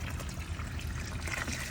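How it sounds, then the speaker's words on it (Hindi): Irrigation water flows over freshly hoed soil around grapevines in a village field, a soft steady trickle and gurgle running continuously with no voices. "उसके बाद अब पानी लगाया जा रहा है"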